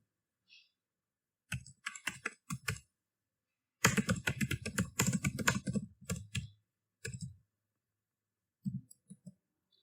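Typing on a computer keyboard while filling in a product review on an e-commerce web app, heard as scattered bursts of clicking keystrokes with pauses between, close and alone.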